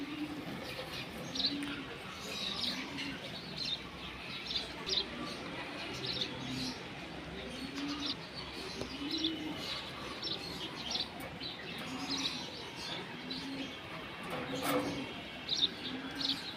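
Silver Bagha pigeons coo in steady, repeated low rounds alongside soft chirps, a continuous nearby flock sound with no talking over it.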